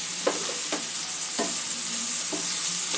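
Kantola (spiny gourd) being sautéed with spices in a pan: a steady, close sizzle broken by several sharp spatula scrapes and stirs spaced roughly half a second to a second apart, with no talking.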